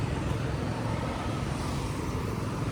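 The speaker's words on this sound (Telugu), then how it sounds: "రైట్ సైడ్ వెహికల్స్ వస్తున్నాయి" Vehicles pass on a road beside a parked vehicle, heard as a faint, continuous rush of traffic with a low, steady rumble.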